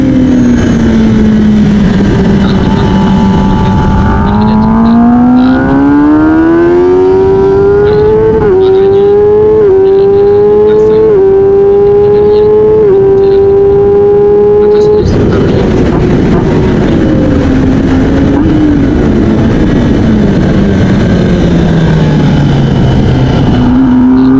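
Race cars on the Mandalika circuit in Lombok, a loud sustained engine whine that climbs through rising gear sweeps with sharp shift breaks, then falls away as the car passes, with no talk over it.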